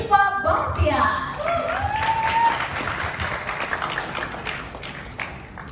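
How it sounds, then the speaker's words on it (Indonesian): An audience breaks into applause to welcome a speaker at a content-creator workshop, a burst of clapping that starts loud and gradually thins out, mixed with crowd noise and some talk. "yuk kita sambut dengan tepukan yang paling meriah, ada Mas Rifa Bahtiar."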